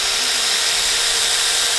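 Cordless lithium battery chainsaw for cutting plant and tree branches runs at a steady high-pitched whine, loud and continuous with no pauses.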